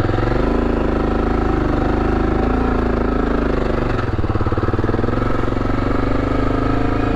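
An old motorcycle climbs a sand-covered hill, its engine loud and close with a constant chugging drone that bogs and pulses as the throttle works, the exhaust thump steady and uninterrupted.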